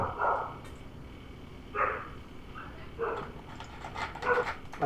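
A dog barking and whimpering in short bursts, a few yips and whines spaced over several seconds, moderately close, with faint background noise.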